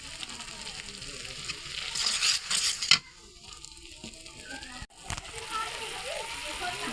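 Turmeric, coriander and cumin spices frying in a pan for a pumpkin and vine-spinach stem curry, a steady sizzle with scraping stirs and a sharp clatter partway through, with faint background voices.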